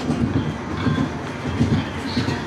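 A small ride train at a theme park rumbles along at close range with rhythmic clickety-clack of wheels on track, steady throughout, with no one speaking.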